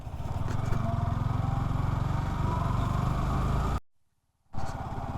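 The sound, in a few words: Yamaha R15 V4 motorcycle riding off-road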